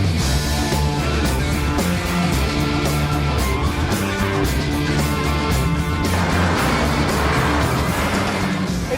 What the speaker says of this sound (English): The Lancia wheezed into life and Hammond and I set off in pursuit.